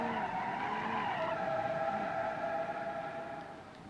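A car skids and drifts in the driving game Automation, with loud, continuous tire squeal over steady engine noise that fades slightly toward the end.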